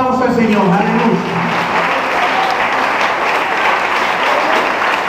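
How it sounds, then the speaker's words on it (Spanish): A church congregation at an evangelistic service in the Dominican Republic breaking into strong, loud applause, a continuous roar of clapping with voices mixed in throughout. "Vamos a dar un fuerte aplauso al Señor."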